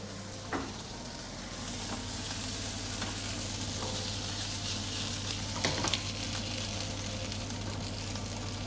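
Food fries and sizzles in a pan on a kitchen stove, a steady close crackling hiss with a few sharp clinks of stirring scattered throughout.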